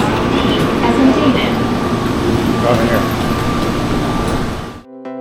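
Plane Train shuttle at Atlanta airport running between concourses, a steady rumbling hum of the moving car with crowd noise and voices close by, tapering off at the end.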